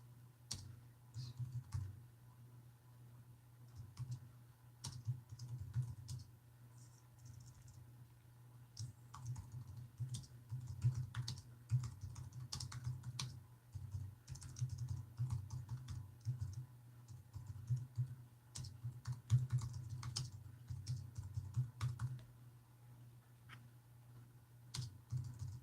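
Typing on a computer keyboard, a steady run of quick light key clicks with irregular bursts and brief pauses, close and fairly quiet over a low constant hum.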